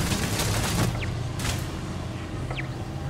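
Gunfire rattles in the video game Starfield, with repeated loud, close bursts of shots over a steady background of game noise and no talking.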